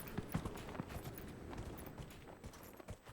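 Horse hooves clip-clop at a steady walking pace in the Dragon Age Inquisition video game, a soft, fairly quiet rhythm of thuds under faint game ambience.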